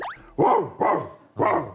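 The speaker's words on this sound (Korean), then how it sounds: "아니, 나는 아파트에 놀러 갔는데 시골 개 소리가 나더라고." A dog barks loudly and close by: three sharp, evenly spaced barks with short gaps between them and no talk.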